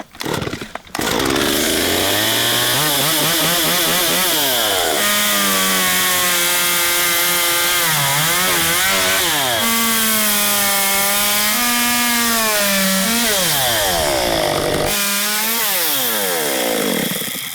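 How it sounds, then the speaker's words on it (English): A chainsaw cuts through a wooden pallet, running loud and steady, its engine pitch rising and dipping repeatedly as it bites through the wood, with no talking. "they call it a chainsaw, but hell, I reckon it's ideal tool for this job"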